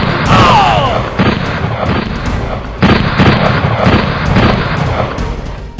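Gunshots ring out in a staged action scene for a film about the history of Branson: loud, sharp reports over a dense, noisy background, with strong bursts near the start and partway through.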